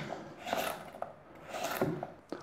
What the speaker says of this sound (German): Dann habe ich noch Möhren, die schneide ich mir auch in Stücke.